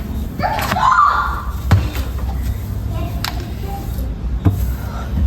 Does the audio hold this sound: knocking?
yes